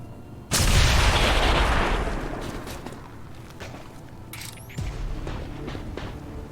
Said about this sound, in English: Everybody will take damage in the explosion.